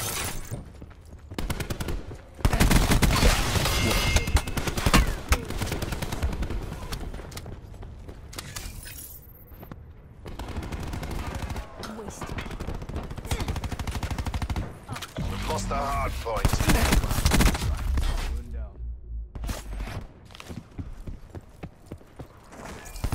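Rapid automatic gunfire from a Call of Duty: Black Ops 4 beta multiplayer hardpoint match, dense bursts of shots and clattering effects coming in waves across the clip, loud and close.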